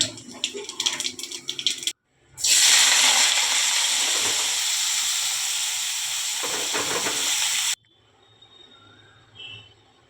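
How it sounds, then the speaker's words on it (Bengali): A loud, steady hiss and sizzle of oil heating in a wok rises suddenly and holds for several seconds, close by, then cuts off into quiet. "কড়াই তেল দিয়ে দিলাম,"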